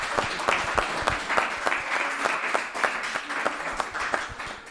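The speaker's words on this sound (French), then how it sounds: "On peut les applaudir." Audience applause at a social selling forum in Clermont-Ferrand, a dense crowd clapping steadily and fairly loud throughout, with no voices over it.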